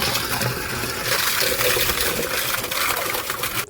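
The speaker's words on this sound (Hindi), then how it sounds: "ये देखिए ड्रम में पानी भर रहा है।" Water gushes steadily into a drum, a loud continuous splashing rush that holds for the whole stretch without pause.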